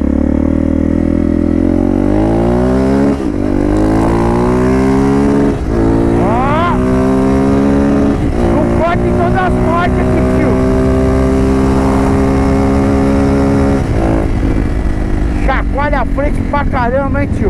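A Honda Falcon NX 400 motorcycle fitted with a 3-inch stainless steel exhaust is ridden up close, its loud engine rising and falling through repeated revs and gear changes, with someone talking over it.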